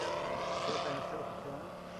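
A propeller airplane passing slowly with its landing gear doors visible, a steady droning engine hum that eases slightly toward the end, with talk over it.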